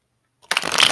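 Tarot cards being shuffled by hand: after a silent start, a sudden burst of close, crisp riffling and sliding card noise that continues to the end.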